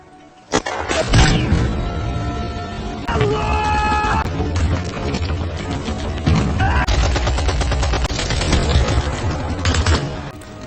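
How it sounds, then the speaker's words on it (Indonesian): Film battle between a sniper and Nazi soldiers: continuous bursts of rapid gunfire and scattered single shots, loud and close for the whole stretch, with no talking. "Untungnya tembakan itu meleset dan memicu pertempuran."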